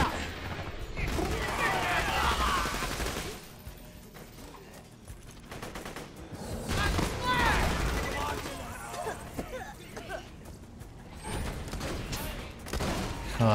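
Legendary Infinity pistol fired in Borderlands, rapid stuttering gunfire in long bursts mixed with mechanical clicks and game effects, with a pause in the middle before the shooting picks up again.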